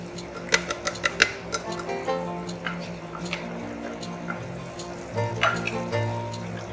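Turmeric, garam masala, coriander and chilli powder frying with tomatoes in a pan for a mixed vegetable korma, a soft steady sizzle under scattered sharp clicks of a spoon stirring and scraping, close and moderately loud.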